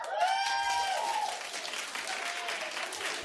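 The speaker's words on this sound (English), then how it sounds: "Some of the men clap, too." Studio audience on a daytime talk show claps and cheers for a clap poll, with a few whoops rising over steady, moderately loud applause that holds throughout.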